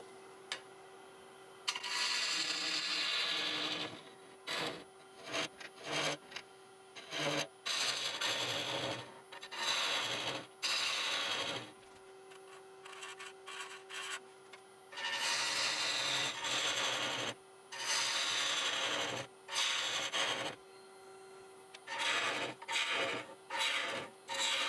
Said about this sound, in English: Using a small 3/8 bowl gouge first just to go in.